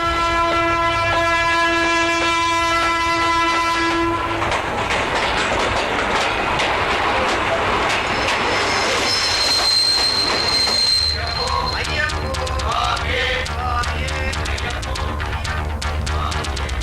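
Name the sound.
train arriving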